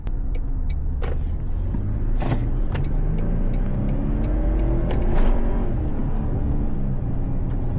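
2025 Toyota Tundra iForce-Max pickup truck accelerating, a steady low engine and road rumble from inside the cab, with scattered clicks and knocks over the drone.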